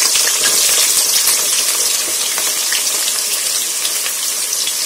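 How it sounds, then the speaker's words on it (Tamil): Sliced onions go into hot oil already crackling with cinnamon sticks and cloves, giving a loud, dense, steady sizzle with bright crackling that carries evenly throughout, with no talking. "பட்டை கிராம்பு பொரிஞ்சிருச்சு, வெங்காயம் போட்டு"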